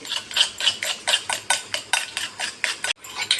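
Eggs with salt and chili powder being beaten in a bowl, a quick regular run of about fifteen sharp clinking strokes, close and fairly loud, with one short pause near the end.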